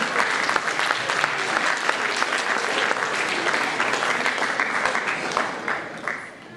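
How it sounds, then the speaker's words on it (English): An audience claps at a school moving up ceremony. The applause is dense and sustained from a sizable crowd and tapers off at the end. "Yeah, you're clapping right now"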